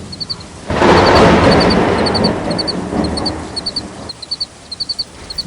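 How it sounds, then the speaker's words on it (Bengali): A storm effect for a Bengali horror story: a loud, thunder-like rumble suddenly swells, rolls on for a few seconds and then fades, while short bird chirps repeat at a high pitch through the whole stretch. "এবার হাওয়াটা ঝড়ে পরিণত হতে শুরু করেছে"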